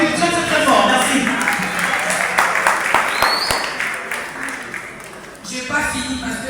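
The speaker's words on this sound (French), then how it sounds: "on l'applaudit très très très fort" A crowd at a merit-diploma ceremony in Kinshasa applauds loudly and steadily, a thick wash of clapping with voices mixed in, dipping briefly before swelling again.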